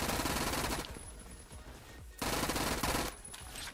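Rapid automatic bursts from a MAC-10 submachine gun in the Roblox shooter Phantom Forces, two sustained loud volleys separated by a brief lull with quieter game noise.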